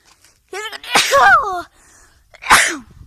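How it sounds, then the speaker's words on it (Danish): Two loud, close sneezes from a person, the first a drawn-out build-up into a sharp burst, the second a brief explosive one after a short pause. "Og jeg skulle nyse."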